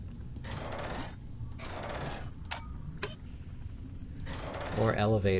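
An elevator mechanism moves in the Rhem 2 video game, with several separate grinding, ratcheting mechanical bursts over a low rumbling hum and a heavier clunk near the end.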